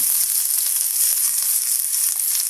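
Sliced shallots sizzle steadily in the same pan used earlier to fry paneer, a continuous bright hiss with faint utensil ticks underneath and no voices.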